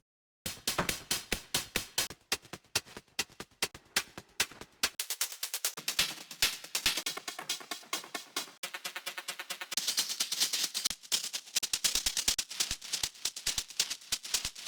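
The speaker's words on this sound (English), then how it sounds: "I bought a sample pack a couple of months ago that had some really interesting hi-hat loops" Hi-hat loops from a purchased sample pack play alone, crisp gritty ticking hits in fast rhythmic patterns with a slight reverb tail, shifting in texture and density over several bars.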